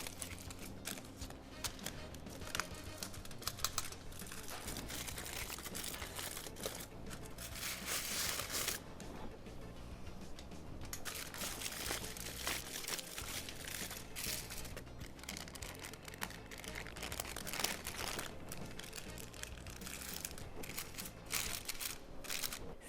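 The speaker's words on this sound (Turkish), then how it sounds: "Bir gün dinlenen San Sebastian'ımı dikkatli bir şekilde açıyorum." A rested San Sebastian cheesecake is opened carefully, with close, quiet crinkling and rustling of baking paper in irregular bursts and soft handling noises, without any speech.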